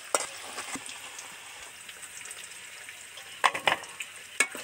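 Potatoes coated with turmeric deep frying in oil give a steady, soft sizzle. Sharper clinks and scrapes of a strainer lifting them out cut in near the end.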